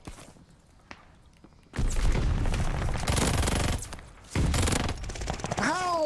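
Call of Duty: Vanguard gunfire erupts in a dense, loud burst of rapid shots after a quieter start, briefly drops off, then resumes, with a short voice near the end.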